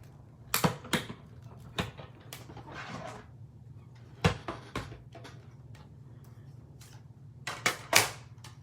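Stampin' Up die-cutting machine clicks and clacks as a die and paper between two plates are rolled through, several sharp ticks and knocks spaced out across a quiet background.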